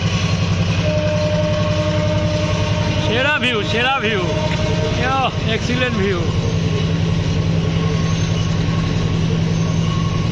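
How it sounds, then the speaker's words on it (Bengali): A diesel train rolls across a famous railway bridge in Sri Lanka, with a loud steady rumble and rhythmic wheel clatter and some squealing, while people talk briefly over it. "এখানে ট্রেন সব ডিজেল ইঞ্জিন,"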